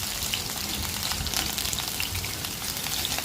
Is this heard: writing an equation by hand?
no